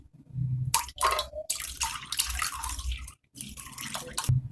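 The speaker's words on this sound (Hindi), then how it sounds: "ये मैं तीसरे पानी में धो रही हूँ।" Sardai being rinsed by hand in a third change of water in a home kitchen, with bursts of splashing and sloshing water that pause and resume.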